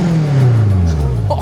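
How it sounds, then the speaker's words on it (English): A raw Lotus sports car engine revved up close, its low loud drone rising and sweeping in pitch over a second and a half, with no talking. "Let's give it a couple of revs."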